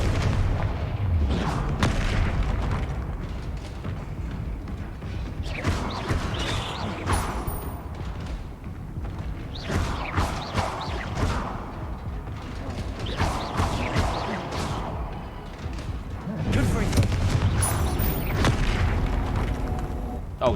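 Explosive spell blasts in a fantasy video game, with repeated deep booming explosions and rumbling combat noise that rise and fall over about twenty seconds, with no speech audible.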